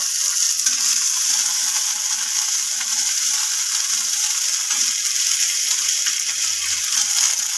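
Chopped capsicum and corn frying in white oil in a wok, a loud steady sizzle with faint rhythmic clicking stirs underneath.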